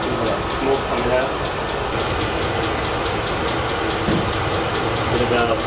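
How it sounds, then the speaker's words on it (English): A VEVOR diesel heater runs while burning diesel, producing a loud, constant mechanical hum and rumble with a faint regular ticking pulse, and a voice talks over it. "I see it's burning the diesel."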